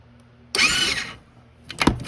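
An old 2009 Coolster 125cc engine, parked for nine years, cranks into a short burst of whirring starter and sputtering engine noise lasting under a second, then a pause followed by a few sharper mechanical clunks and knocks nearby.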